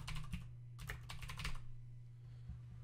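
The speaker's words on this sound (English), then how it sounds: "I'm going to type out hello world." Someone types a short phrase on a computer keyboard, a few quick bursts of close, crisp key clicks separated by brief pauses, quiet and with no speech.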